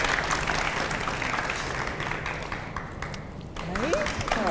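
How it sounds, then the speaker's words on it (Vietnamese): Audience clapping from a studio crowd on a Vietnamese dating show, a steady broadband wash that fades in the middle and swells again near the end, with talk and a few bright tones mixed in. "chúng ta cho một tràng vỗ tay để cổ vũ tinh thần nào"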